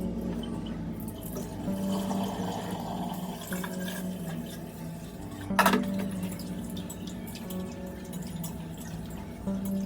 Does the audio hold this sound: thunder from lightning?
no